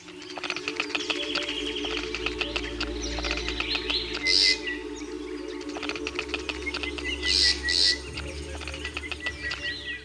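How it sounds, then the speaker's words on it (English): Sharp, repeated chirping snake alarm calls from vervet monkeys in a busy outdoor setting, with bursts of louder calls rising over a steady background of birdsong and insects. "This call warns of a snake."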